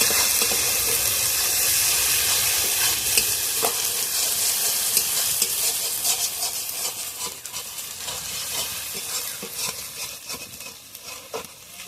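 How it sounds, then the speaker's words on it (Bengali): Ginger-garlic paste sizzles steadily in a hot pan for a prawn and elephant-foot yam stalk curry, a loud continuous frying hiss with scattered spatula scrapes and stirring clicks throughout, easing slightly toward the end. "আদা রসুন বাটাটা ভালোভাবে কষিয়ে নেবো একটু"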